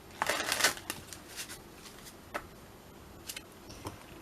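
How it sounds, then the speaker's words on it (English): Tarot cards are shuffled by hand during a reading, giving several soft riffling bursts and light taps, loudest early on, with quiet gaps between them and no talk. "One more shuffle."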